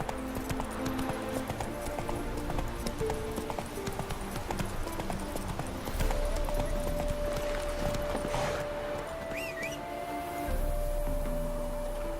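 Hooves drum in a steady clip-clop as Roach gallops in The Witcher 3. The rhythmic beats continue throughout, layered with game ambience and a sustained musical tone partway through.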